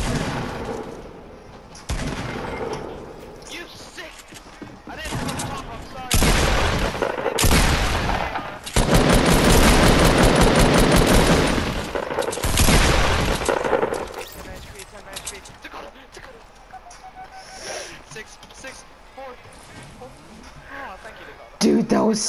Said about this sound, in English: Yes, they're shooting at me